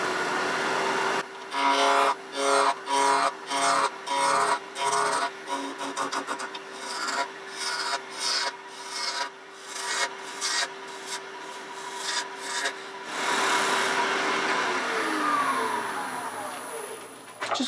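A 3/4 inch spindle roughing gouge cuts a wooden chess rook spinning on a lathe at about 2,000 rpm, making close, loud rasping bursts in quick repeated passes, then a longer sustained cut, over a steady motor hum.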